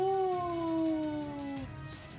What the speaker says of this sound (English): I have my little kitty beside me.